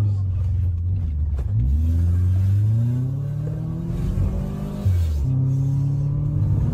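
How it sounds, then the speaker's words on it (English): A turbocharged car engine revving in rising and falling sweeps, with a sharp dip and climb near the end, loud and close with voices in the background. "We got a turbo in that car. You hear it?"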